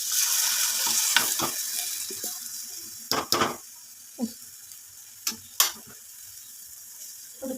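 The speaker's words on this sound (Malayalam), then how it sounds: "ഒന്ന് ഇളക്കി വെള്ളം ഒഴിച്ച് അടച്ച് വെച്ച് വേവിക്കും." Prawns and moringa drumsticks sizzle in a hot pan with a steady hiss, broken by several sharp scrapes and knocks from a spoon stirring, and water may be splashed in; no talking.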